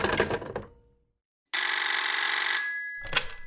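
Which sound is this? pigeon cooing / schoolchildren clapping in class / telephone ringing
telephone ringing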